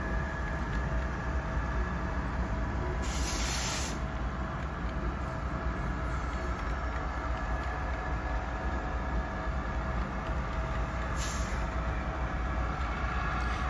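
An HO scale BNSF model train runs with onboard sound, giving a steady, continuous rumble and rail noise throughout, with a couple of brief brighter hissing bursts partway through.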